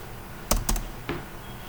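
Several quick clicks of keys on a computer keyboard, close and fairly soft, typed while entering router interface commands: a tight pair of taps, a short gap, then a single keystroke.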